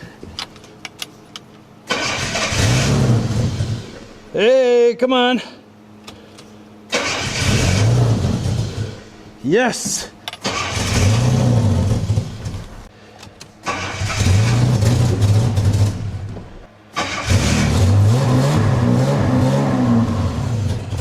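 A long-abandoned barn-find Jaguar engine cranks and fires after twenty years, catching and revving in several loud bursts separated by short pauses, with brief voices calling out between attempts.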